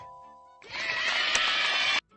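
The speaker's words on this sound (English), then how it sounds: "Sheep." A sheep bleats once in a children's alphabet game, a single loud, harsh, drawn-out cry of about a second and a half that starts and stops abruptly after a soft musical tone.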